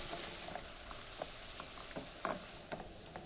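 Swordfish pieces are stirred into a simmering Provençal tomato sauce. The sauce gives a soft, constant bubbling sizzle, and a few light spoon clicks and scrapes sound close by, with no voices.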